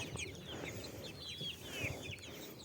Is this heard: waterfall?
no